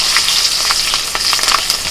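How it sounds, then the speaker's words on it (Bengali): Black cumin seeds and slit green chillies hit hot oil in a steady, loud, crackling sizzle that runs close and unbroken for a couple of seconds, with a few sharper pops along the way. "তেলের মধ্যে ফোড়নে দিচ্ছি কালো জিরে, আর দিচ্ছি 8-10টা চেরা কাঁচা লঙ্কা"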